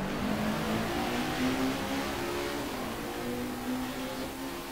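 Race cars in a racing video game roar together at a race start, a dense, steady engine drone with overlapping revving tones that holds at constant loudness throughout.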